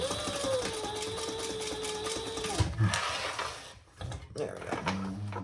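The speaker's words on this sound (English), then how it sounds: "Let me just add a couple of stitches there" A sewing machine stitches a few short bursts through a crossbody bag, a close mechanical rattle mixed with handling noises and brief pauses.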